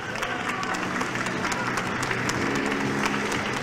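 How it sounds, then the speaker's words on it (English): An audience at the Dragon's Chamber Taiwan 2021 competition applauds the winning team, a loud, continuous crowd ovation with crisp individual claps and a faint murmur of voices underneath. "Please give a warm round of applause for Manga X Technology."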